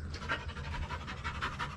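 A dog pants quickly and steadily at close range, with rhythmic, breathy huffs continuing without pause during an outing near the Mak-Ban geothermal area and Mt. Bulalo.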